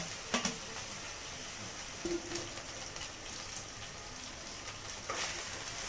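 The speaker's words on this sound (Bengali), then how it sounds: "দেখুন মশলাটায় কেমন তেল ছেড়ে গিয়েছে, মশলাটা ভাজা হয়ে এসেছে।" A masala of onion, garlic, tomato and ginger fries in oil with a soft, even sizzle, faint and close, broken by a few light scrapes of stirring.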